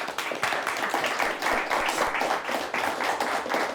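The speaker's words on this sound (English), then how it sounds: "Let's give them a round of applause." Studio audience applause for a high school quiz team on a televised quiz show, a steady dense wash of many hands clapping close and continuous throughout, with no talk over it.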